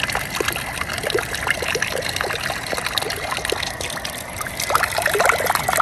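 Water trickles and splashes steadily from a fountain on a seaside promenade in Locri while a child drinks, a continuous bright dribbling with faint outdoor background.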